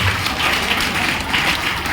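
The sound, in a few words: audience applause at a training session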